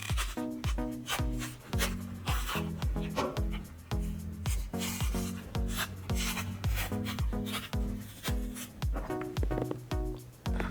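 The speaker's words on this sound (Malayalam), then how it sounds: "മൂന്ന് കായയും പൊളിച്ചു കഴിഞ്ഞു." Raw plantains for homemade banana chips are peeled by hand, making rhythmic, close-up rubbing and scraping strokes repeated in a steady series with no talk.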